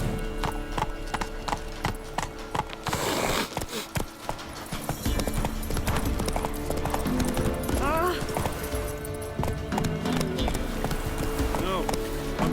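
Roach the horse gallops in The Witcher 3: Wild Hunt, rapid clip-clop hooves thudding steadily throughout alongside game music and ambience, with a brief whinny and a voice talking over parts.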